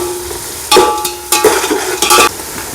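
Onions frying in a pan for Mysore white pulao, with a low sizzle under a few loud bursts of stirring and scraping that come in short, irregular strokes, close up and with no voices.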